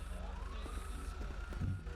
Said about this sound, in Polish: Słychać syreny po prawej stronie.